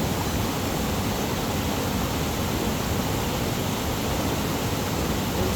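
Loud, constant rushing of river water at Dumalon, Zamboanga City, a dense broadband roar close by that stays steady throughout with no voices on top.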